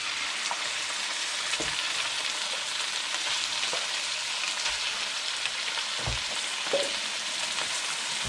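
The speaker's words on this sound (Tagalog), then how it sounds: "Parang piniprito-prito ko muna." About a kilogram of chicken pieces fry in a pan for asado with a constant dense sizzle, broken by a few faint pops and stirring knocks.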